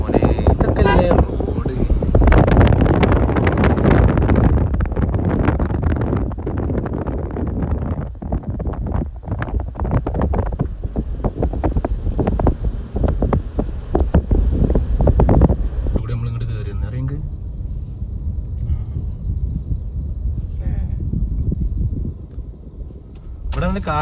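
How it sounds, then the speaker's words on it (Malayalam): Strong wind buffets the microphone on a mountain road, a continuous loud rumble and roar that eases near the end, with a person talking over it. "ഇവിടെ നല്ല കാറ്റൊക്കെ ഉണ്ട് കേട്ടോ."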